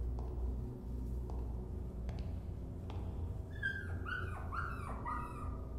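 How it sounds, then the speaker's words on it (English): A dog in a video game gives a series of whimpering, yipping cries in the second half, over a steady rumbling game soundscape with a few faint clicks early on. "Is that the dog? That's the homeless dog."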